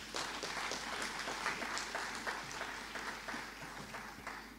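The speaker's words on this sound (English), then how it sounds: "Please give her a round of applause." Applause from a graduation ceremony audience at an agricultural college runs steadily for several seconds, a fairly soft, sustained wash of many hands clapping with a low hum underneath.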